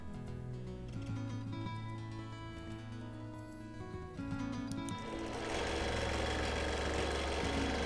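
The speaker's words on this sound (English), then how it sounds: "So can you hear now how the motor is just a consistent, even sound?" A longarm quilting machine motor runs steadily while stitching a six-sided Christmas tree skirt, giving an even mechanical hum that grows louder and denser toward the end.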